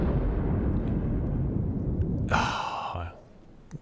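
Main guns of the battleships Yamato or Musashi firing in World of Warships: a long, heavy rumbling boom decays away, followed by a brief, bright breathy burst and then near quiet.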